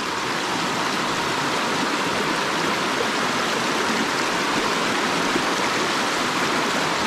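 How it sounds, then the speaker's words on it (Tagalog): A big river rushes steadily in the mountains during a typhoon, a loud, dense, continuous roar of flowing water with no pauses and no voices. "yung malaking ilog"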